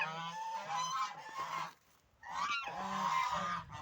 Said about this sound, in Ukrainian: У нас тут в огорожі спільні тільки е, дві качки і качур.